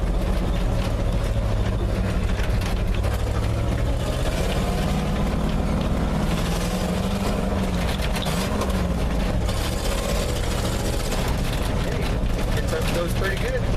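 A classic pickup truck's engine droning low and steady while it is driven, loud and continuous, with its pitch slowly rising and falling, and someone talking over it.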